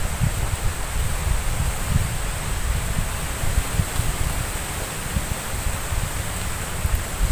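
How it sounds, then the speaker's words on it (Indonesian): Strong wind gusting around a garden house, a steady loud rushing roar with low buffeting rumbles against the microphone, continuous throughout with no voices. "Angin banter."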